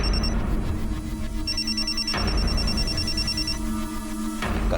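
A mobile phone ringtone plays a repeating high electronic pattern for a few seconds, steady and fairly clear, with no one speaking.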